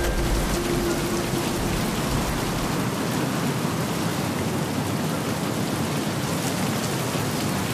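Heavy rain roars steadily in the video game Battlefield Hardline, a dense, loud, continuous wash with a low thunder rumble underneath at the start.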